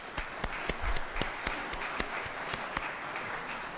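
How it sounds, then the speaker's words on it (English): Scattered applause in a state senate chamber during a morning session, fairly quiet and sparse, with distinct separate hand claps in an uneven rhythm rather than a full ovation. "welcome them this morning, if you will, with a round of applause"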